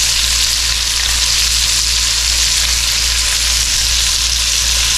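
Steady, loud sizzling of onions caramelizing in a hot pan for a French onion chicken bake, a constant crackling hiss with no talking.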